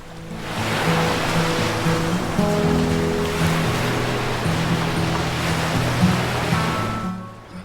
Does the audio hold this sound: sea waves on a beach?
yes